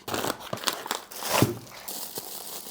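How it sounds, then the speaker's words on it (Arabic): A heat-sealed plastic bag of frozen grilled kofta being torn open, close crinkling and crackling with a few sharp tearing bursts, fairly quiet and continuous. "هتفتح الكيس وتحطها في الميكروويف وتاكلها فولي كوكد"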